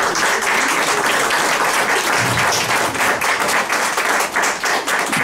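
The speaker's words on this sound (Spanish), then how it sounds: "para quienes pido un aplauso, por favor." Audience applause fills a health center accountability gathering in Tulcán, a loud, dense, steady wash of many hands clapping that holds evenly throughout with no pauses.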